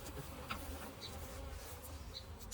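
Honey bees shaken into a hive buzz in a dense, continuous drone, close and steady, with single bees briefly zipping past the listener.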